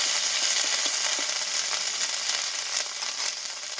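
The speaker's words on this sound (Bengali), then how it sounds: "এই আদাটা আমি একটু তেলে ভেজে নেব" Crushed ginger frying in hot oil gives a loud, continuous hissing sizzle, steady and close, with faint stirring ticks.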